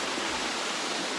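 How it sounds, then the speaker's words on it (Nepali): Steady broadband rush of the Gumsuda waterfall in Nepal, flowing continuously and close by with even loudness throughout, no other sounds standing out. "यो झरनाको नाम चाहिँ गुमसुदा झरना"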